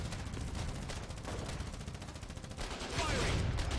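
Rapid, dense gunfire from a gun in the war game Foxhole, a continuous rattling barrage of overlapping shots that swells louder near the end, with faint voices underneath.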